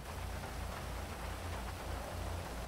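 Steady, dense rain pours in a roleplay video game, an even hiss with a low rumble that holds constant throughout with no voices.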